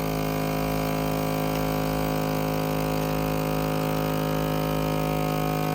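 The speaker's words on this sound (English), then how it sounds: "how this machine vacuums the air out of the bag, and then it'll seal it up" A countertop vacuum sealer pulls air out of a bag, producing a steady, loud motor hum with a constant pitch that holds unchanged throughout, with no voices.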